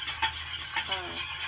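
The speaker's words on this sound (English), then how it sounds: "you definitely want to continuously whisk" Vinegar pie filling being whisked continuously as it boils in a pot on the heat, with steady scraping and stirring swishes and a faint bubbling sizzle beneath, close and moderately quiet, no talking.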